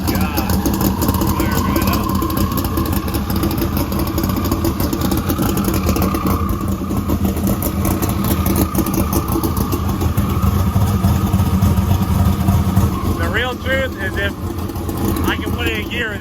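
A car engine in neutral fires up and runs steadily, a loud close continuous rumble throughout, with people talking over it.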